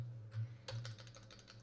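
Computer keyboard typing comes in a quick, irregular run of close key clicks, fairly faint, over a low steady hum.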